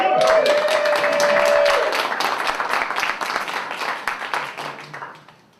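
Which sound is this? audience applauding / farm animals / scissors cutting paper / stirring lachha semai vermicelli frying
audience applauding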